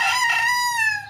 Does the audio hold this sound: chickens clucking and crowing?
yes